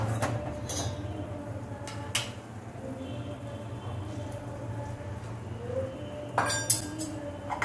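A utensil scrapes and clinks against a pan while someone stirs pineapple rava kesari with saffron and cardamom. A few sharp clinks come at the start and near the end over a quiet steady background, with no voices.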